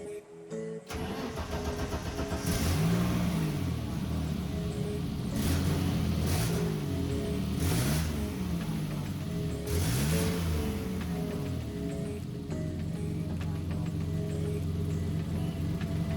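A 35-year-old BMW track car cranks and fires after a short silence, then runs with a loud, rough idle marked by a few rhythmic revs and surges.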